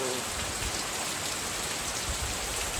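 Morning rain comes down hard over farmland, a thick constant hiss with scattered drop taps heard up close and no speech.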